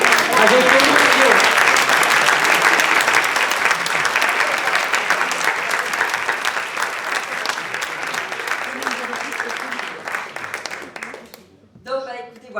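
An audience applauds Georges at an Accroscopie event, steady and loud at first, then slowly thinning before it cuts off near the end, when a voice begins.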